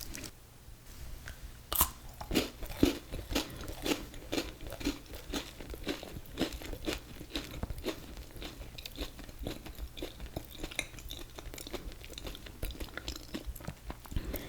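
Someone crunches and chews a white chocolate Kit Kat Breaking Bones bar up close, with dense, continuous crisp bites and crackles and a few louder snaps, and no talking.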